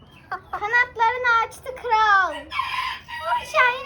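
Young chickens that have grown large call out in a series of drawn-out, rising and falling cries, several in a row, close and fairly loud over a low background rumble.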